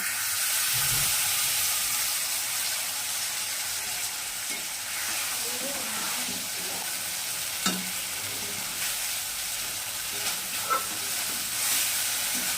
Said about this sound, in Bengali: মশলা দিয়ে আমরা ভালো করে কষে নেব